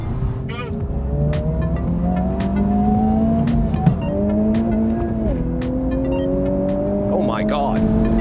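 A 2023 Honda Civic Type R and rival cars accelerate hard in a roll race, loud engine drones climbing steadily in pitch and dropping briefly at gear shifts, with a sharp knock midway and some tire and road noise.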